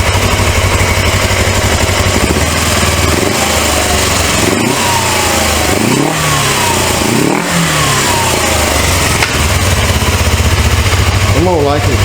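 A very rare 1980s Suzuki GS 450A automatic motorcycle runs on its first start, a loud, steady, close engine drone with a few brief revs rising and falling, and a voice speaking over it.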